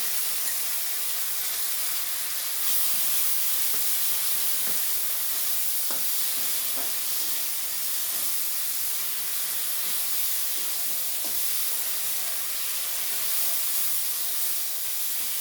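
A ground paste of cumin, coriander and black pepper sizzles steadily in a hot pan for fish curry with taro root, giving a continuous close hiss with faint crackles and no talking.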